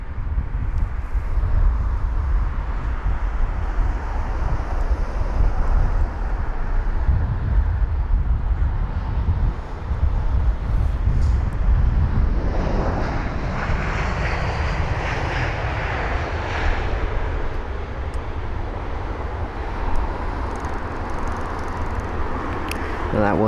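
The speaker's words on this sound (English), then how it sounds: "And that was the Eurowings 319." A Eurowings Airbus A319 arriving from Hamburg at London Heathrow makes a steady, distant jet roar that swells and brightens midway, then settles into a lower rumble, with faint voices in the background.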